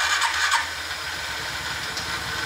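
A motorcycle engine is started with the electric start button, giving a steady close mechanical whir and running tone with no talking.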